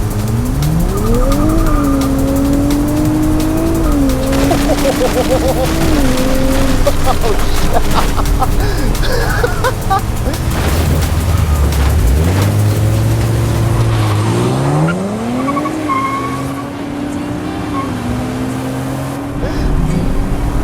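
A Nissan Z with an automatic transmission launches from 0 to 60 on launch control, its engine revving up through repeated gear changes while the tires spin and squeal. The engine stays loud and close throughout, and talk runs beneath it.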